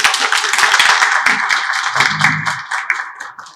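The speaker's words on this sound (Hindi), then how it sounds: "आपकी जोरदार तालियों के साथ" An audience at a Christmas dinner event in Pakistan claps, a dense burst of applause that gradually thins into scattered claps, loud and close, with little talk over it.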